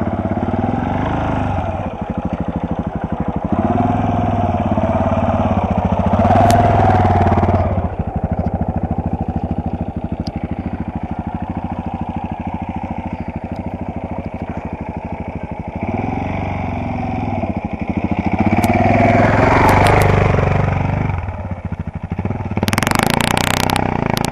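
A motorcycle on a sand training course in Braidwood revs and labours loudly and close, the engine note swelling and easing as the throttle opens and closes, with faint voices in the background.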